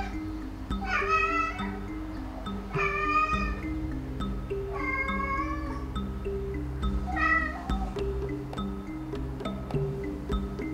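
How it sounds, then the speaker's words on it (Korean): Four drawn-out, plaintive cat-like meows, about two seconds apart, sound in front of a litter box against a quiet room with a faint low hum. "만약에 당신의 고양이가 화장실 앞에서 이런 울음소리를 내고 있다면"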